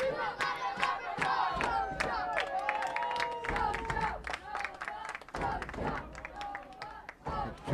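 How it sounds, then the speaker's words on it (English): Rival Nova Scotia and Newfoundland and Labrador fans cheer and chant from opposite sides at a U14 boys soccer championship game, rhythmic shouts and claps rising and falling with voices talking over them. "Competing cheering on either side of us."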